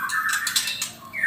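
Young songbird chicks at a bird farm squawk in a shrill, continuous chorus of overlapping calls, close and fairly loud, with no talk.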